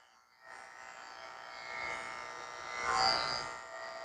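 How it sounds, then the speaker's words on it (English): Electric clippers fitted with a 30 blade buzz close up while shaving the foot pads of an Australian Shepherd, a steady motor drone that swells and dips as the blade moves between the toes. "I'm going to use my 30 blade to shave the pads of her feet."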